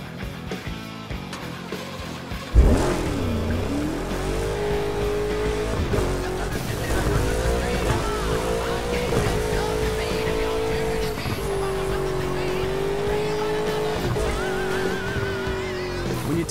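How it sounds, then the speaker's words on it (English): A car engine in a racing video game fires up with a sharp burst, then revs steadily with rising and falling pitch, loud and close, with tire and skid noise mixed in. "Hold the accelerator to fire up the engine."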